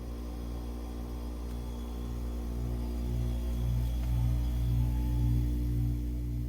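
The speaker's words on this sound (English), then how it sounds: "that hum you hear, that's the sound of the heat pump running on stage 2." A low, steady mechanical hum from a Dandelion geothermal heat pump running on stage 2 drones throughout, faint and continuous with a slight pulsing rise in the middle.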